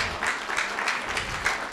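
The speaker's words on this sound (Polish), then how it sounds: "Oklaski dla pani dyrektor." A hall audience applauds a female director at a ceremony, a dense, steady burst of many hands clapping close by, with no voices over it.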